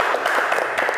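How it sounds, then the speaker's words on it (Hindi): Studio audience applause for a comedian on a Hindi talk show, a brief burst of steady clapping, fairly loud and alone. "हमारे पास ब्रेक के बाद आगे कॉमेडियन मोहम्मद शान के लिए जोरदार तालियां"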